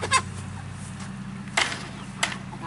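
Backyard homestead chickens cluck softly over a steady low hum, with a few sharper squawks breaking through; no talking is heard.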